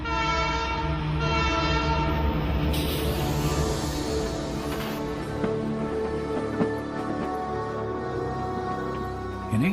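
A Canadian Pacific Railroad train in the Kicking Horse Valley of British Columbia sounds its horn loud and close, a long sustained multi-tone blast over the heavy rumble and clatter of passing rail cars.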